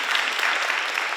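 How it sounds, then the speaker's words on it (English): An audience applauds steadily at a GIS mapping workshop, a dense even patter of many hands clapping with no voices over it. "you're applauding me for actually doing my work"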